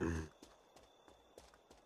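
Horse hoofsteps in the video game Runes of Magic: soft, evenly spaced thuds in a steady trotting rhythm, faint and close, following a brief louder sound at the start.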